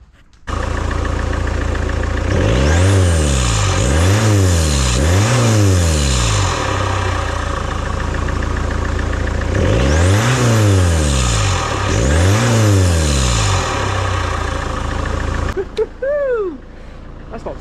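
Diesel Peugeot RCZ fitted with a homemade air intake, revving up and down in repeated loud bursts over a steady idle, close to the engine, with a short bit of talk at the end.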